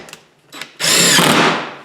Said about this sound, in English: using that real long drill